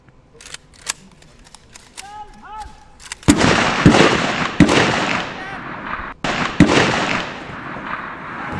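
Small arms fire during cadet weapons training at the Indian Military Academy: sharp loud reports crack out at intervals, with a rushing echo filling the gaps after quieter clicks and some voices early on.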